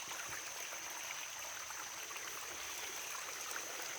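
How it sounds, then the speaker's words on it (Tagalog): Spring water streams steadily at a clean, drinkable outdoor source, giving a continuous close rushing and trickling wash with no pauses. "Ang tamis ng water dito, Kla. Malinis yan"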